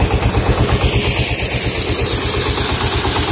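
A 20 HP Anil diesel engine drives a large irrigation water pump, running loud and close with a steady, rapid low thumping throb that holds unchanged throughout.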